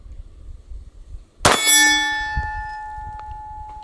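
A Glock 9mm round strikes a steel silhouette target at a shooting range, giving a sharp crack and a bright metallic clang that rings on in a long, fading tone, with a fainter knock after it.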